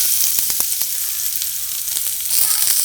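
Ginger and garlic hit hot oil and sizzle loudly and continuously, a dense crackling hiss close by with brief pops, rising slightly toward the end.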